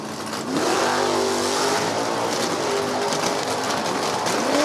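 A 93 Camaro in Superstock K class and a GTP automatic 68 Chevelle wagon launch side by side at a drag strip, loud engines roaring and revving continuously as they pull away.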